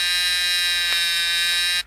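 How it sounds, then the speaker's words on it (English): A Chrysler seat belt warning buzzer sounds as one steady, loud, high electronic tone that holds for almost two seconds and then cuts off abruptly. "Double-check the circuit by turning the ignition on to make sure the buzzer and light come on"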